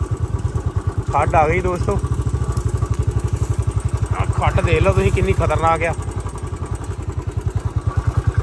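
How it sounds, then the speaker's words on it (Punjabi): A motorcycle rides through a rough forest ravine in Punjab, its engine thumping in a fast, even pulse from start to finish while someone talks loudly over it. "ਖੱਡ ਦੇ ਵਿੱਚ ਹੁਣ ਚਲਾ ਰਹੇ ਆ ਮੋਟਰਸਾਈਕਲ"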